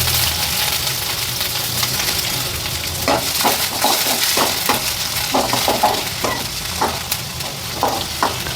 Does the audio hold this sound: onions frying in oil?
yes